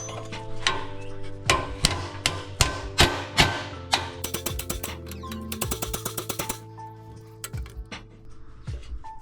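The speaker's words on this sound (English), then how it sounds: "Get a hammer." Metal hammer blows ring out on the suspension of a BMW E39 M5 in a garage, a series of sharp close strikes, first spaced, then a rapid flurry of quick taps, then a few more scattered hits.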